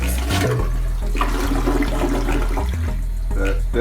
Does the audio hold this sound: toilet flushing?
yes